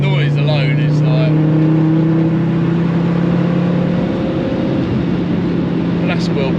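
Engine of a Ford Fiesta RS swapped with a Focus RS 2.5 turbo engine, heard from inside as a loud, steady droning hum with a slowly rising pitch, someone talking over it.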